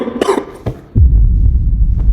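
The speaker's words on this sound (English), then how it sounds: "Why I keep fucking coughing?" A couple of loud, close coughs, followed by a low rumbling hum of handling noise or wind.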